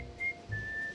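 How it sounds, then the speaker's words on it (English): A game character in the god game Godus whistles two short, clear, thin notes at a moderate distance. "It's just one guy left whistling."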